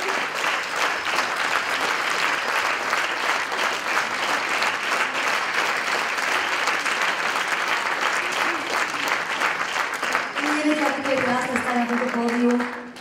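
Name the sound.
audience applause at a benefit concert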